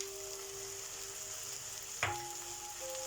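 Fried tomato paste for bolognese sauce sizzling quietly in a pan, with a single soft thump partway through as tomatoes go in, under a steady low hum.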